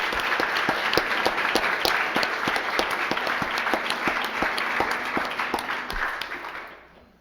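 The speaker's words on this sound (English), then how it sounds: "Please join me in a hearty happy birthday round of applause." A church congregation gives a hearty round of applause for June birthdays during a Sunday service, steady dense clapping filling the room for several seconds before tapering off at the end.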